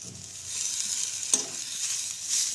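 Onion, coconut, garlic, ginger, tomato and chilli fry in a pan with a soft, steady sizzle, broken by a sharp stirring scrape near the middle and another scrape at the end.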